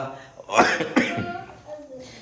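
A couple of harsh coughs close by, one after another, from someone with a bad cough after several days of fever, with a voice murmuring around them.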